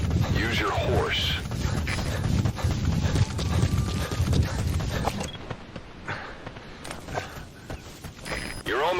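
Steady clip-clop of horse hooves at a walking pace in the video game Metal Gear Solid V: The Phantom Pain, mixed with game background sounds and a voice talking over it.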